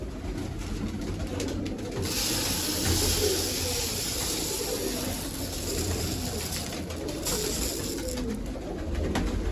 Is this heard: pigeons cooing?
yes